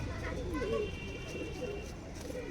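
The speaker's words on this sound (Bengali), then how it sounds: "চৌধুরী সাকিব মোহাম্মদ ভাট্টি পিজন আছে সেই ব্লাড লাইনের কবুতর আছে" Pigeons in a loft of imported fancy breeding birds, soft nearby cooing in repeated low throaty phrases over a faint background hum.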